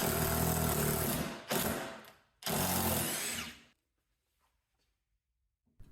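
A Hyper Tough hydraulic impact driver drives construction screws in two loud, dense bursts of whirring and hammering, each roughly a second or more, separated by a short gap, then stops into near silence.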